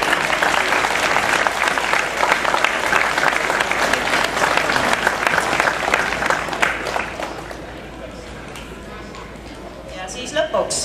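An audience claps at the Robotex 2011 robotics competition award ceremony, loud sustained applause that dies away after about seven seconds, leaving a quieter room with scattered voices and a few late claps.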